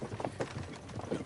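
Horse hooves clip-clop steadily in a repeating rhythm, close by and moderately loud, as horses pull along at a slow pace.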